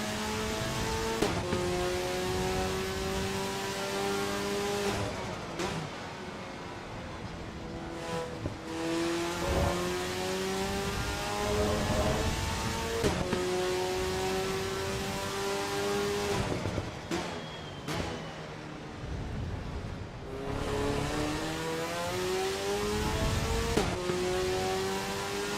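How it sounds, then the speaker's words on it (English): A race car in Assetto Corsa Evo with a violent, loud exhaust, revving hard through repeated rising gear pulls with sharp shifts between them, close and continuous, with occasional tyre squeal and no talk. "just how violent that exhaust is."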